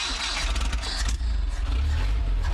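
An old abandoned truck's engine starts and settles into a loud, steady low rumble with rough mechanical rattling throughout, close and alone with no talk.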